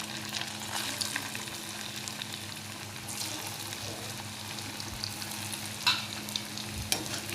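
Fasting-style kachoris fry in oil, giving a low, steady bubbling sizzle with a faint background hum. Occasional soft clinks and scrapes come through as the pieces are turned.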